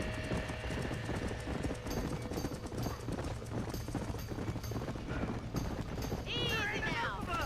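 Horses' hooves clip-clop in quick, uneven beats inside a burning barn amid background commotion, with a whinny near the end.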